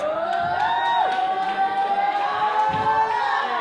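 A wrestling crowd at a women's match roars and cheers steadily throughout, loud and sustained, with whistle-like tones and whoops rising over the din; no clear speech stands out.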